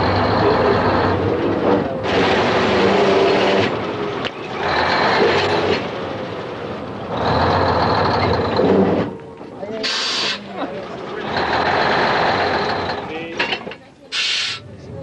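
A derailed train in Chile reverses back over stones laid by the track onto the rails, giving bursts of grinding and scraping with intermittent high beeps, while people talk between and over the noise.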